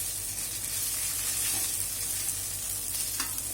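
Chicken liver and gizzard fry in oil over a low flame while being stirred now and then, a continuous dense sizzle with fine crackle held at a steady level throughout.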